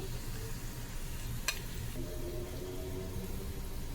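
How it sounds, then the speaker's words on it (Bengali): Onions and green chillies frying in hot oil, a continuous soft sizzle with a faint crackle, quiet and steady, with one brief sharp tap partway through. "তেল গরম হয়ে গেছে, এখন পেঁয়াজ দিয়ে দিতেছি, কাঁচামরিচ দিয়ে দিতেছি"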